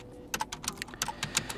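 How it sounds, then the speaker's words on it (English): Quick, close keystrokes on a computer keyboard as a Linux terminal install command is typed, roughly a dozen crisp clicks in an uneven burst with no talking. "So we have to install it by typing in sudo apt install"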